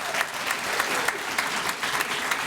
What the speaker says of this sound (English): Let's all give a round of applause for our tamariki